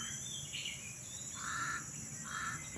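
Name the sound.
crow cawing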